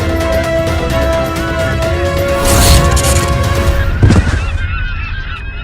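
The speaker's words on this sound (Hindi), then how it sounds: "पक्षियों का समूचा झुंड आ रहा है।" A whole flock of birds honks like geese, many overlapping calls filling the air continuously and loudly over a sustained steady tone, with a sharp burst near the end.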